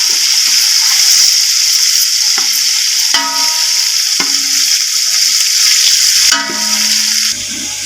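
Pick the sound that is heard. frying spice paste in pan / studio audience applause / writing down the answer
frying spice paste in pan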